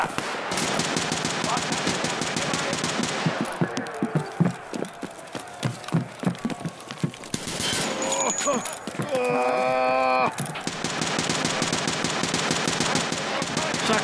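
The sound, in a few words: gunfire from a shotgun in Escape from Tarkov Arena video game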